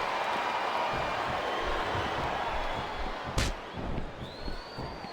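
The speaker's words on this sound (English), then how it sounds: "Wow, listen to that chant, Taz." Wrestling arena crowd chanting in a continuous loud roar with rhythmic pulses, a sharp slam-like hit partway through, under faint commentary.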